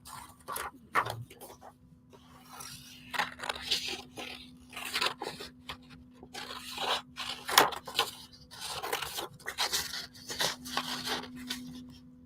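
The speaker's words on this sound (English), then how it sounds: "I'm cutting 2 sheets." Scissors snipping through two stacked sheets of paper during collage work, a run of close, uneven crunchy cuts and rasping rubs with no talking.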